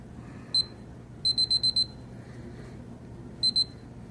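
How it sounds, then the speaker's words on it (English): An alarm panel emitting sharp, high electronic beeps: a single beep, then a rapid run of five, then two more after a pause, each loud and clear over a quiet room hum. "Keep beeping. I love it. Listen to that."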